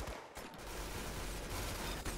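Rapid automatic gunfire from a weapon in the Roblox shooter Arsenal, a dense continuous burst of shots at fairly low level with no talking.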